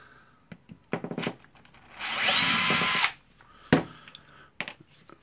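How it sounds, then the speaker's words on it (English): Screws being driven out of the armature of a DeWalt D25123 rotary hammer drill with a power screwdriver, one sustained whir of about a second amid scattered clicks and handling knocks, quiet and close. "Okay, I will unscrew the armature."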